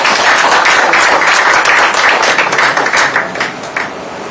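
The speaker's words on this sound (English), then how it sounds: "Please round of applause, everybody." Applause fills the room at an awards dinner, the BusinessDay Top 25 CEOs Annual Award 2014, as a crowd claps loudly and steadily before tapering off toward the end.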